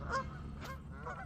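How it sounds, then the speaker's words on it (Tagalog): Geese honk a few times as they take off from a lake, loud and close at first, then fainter calls follow within a second over steady outdoor background noise. "Nagliparan yung mga gansa."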